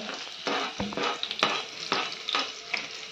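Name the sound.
onion frying in oil with garlic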